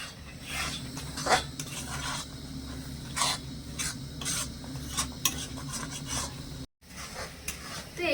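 Sugar-sweetened mixture for milk-free sandesh stirred in a pan over medium-high heat, a steady scraping and rubbing with faint sizzling, continuous and close, with a brief silent gap near the end.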